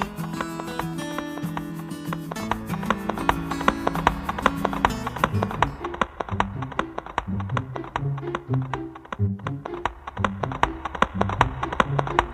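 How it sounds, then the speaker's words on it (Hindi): A horse pulls a cart along rail tracks, hooves clip-clopping in a steady quick rhythm at close range over a continuous busy music bed, with no talk. "रेल की पटरियों में घोड़ा गाड़ी को आराम से खींचने लगा।"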